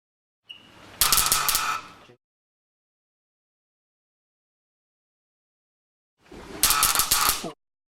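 A Ruhmkorff induction coil throwing sparks in two separate bursts of rapid crackling, buzzing discharge, each about a second long and loud and close, with silence between them.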